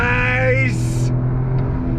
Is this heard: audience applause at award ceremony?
no